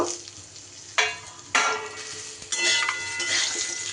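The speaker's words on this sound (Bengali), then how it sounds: "আম কিন্তু বেশি সময় ভাজা ভাজা করা যাবে না, জাস্ট একটু 30 থেকে 40 সেকেন্ডের মতো নাড়াচাড়া করে নেব" Mango pieces tossed into hot oil seasoned with a pinch of five-spice and stirred, the frying crackle jumping up with sharp clatters of a spoon against the pan at intervals over a steady close sizzle.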